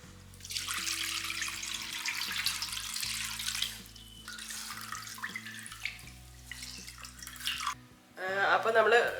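Homemade sapota (chikku) wine poured and strained through a cloth into a vessel, a steady trickling, splashing stream of liquid running nearly throughout, with a louder burst of pouring near the end.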